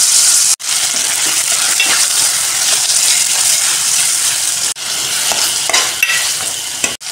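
Chicken with ginger garlic paste and onions sizzles loudly and steadily in a pan, with stirring scrapes and clatters throughout and a couple of brief breaks in the frying noise.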